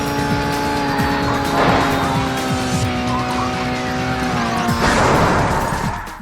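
Racing car in a video game revving hard with a rising engine whine, tires squealing and skidding through turns, loud and close, with a burst of boost acceleration near the end.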